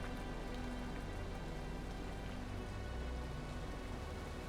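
Steady rain falling on a cold, wet day, a dense, even hiss that holds at a constant, fairly quiet level throughout with no voices.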